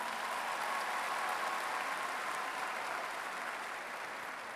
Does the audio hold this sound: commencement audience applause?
yes